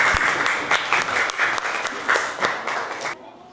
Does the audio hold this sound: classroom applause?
yes